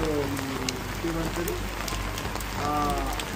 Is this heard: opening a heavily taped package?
no